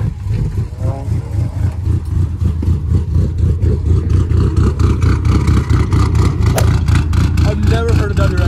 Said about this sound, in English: I've never heard of WRX idle like that.